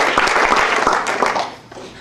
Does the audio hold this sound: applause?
yes